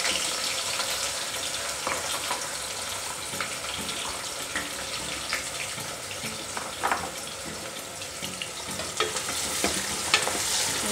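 Long-sliced large onions fry in oil with spices in a pan for prawn biryani, giving a steady, close hiss and sizzle with a few scraping stirs, no talking.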